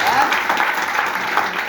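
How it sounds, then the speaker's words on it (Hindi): An audience claps together, a short burst of dense, even applause heard up close, with a voice speaking over it. "ताली बजाओ सब"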